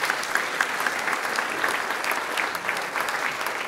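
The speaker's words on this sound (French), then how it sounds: "Je voudrais qu'on les applaudisse." Steady audience applause at an evening talk event, a dense continuous patter of many hands at moderate level, lasting several seconds without speech.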